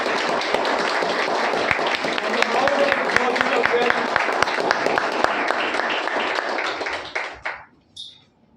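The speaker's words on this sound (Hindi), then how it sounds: "छोटा तालियां हो जाए मोदी के" An audience at a Modicare sports nutrition product training session breaks into dense, steady clapping that holds for about seven seconds, then quickly tapers off and stops.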